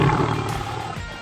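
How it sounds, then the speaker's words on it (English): A jaguar roars in a short, loud, rough burst with a low rumbling growl sustained over the whole moment, no voices present. "J for jaguar."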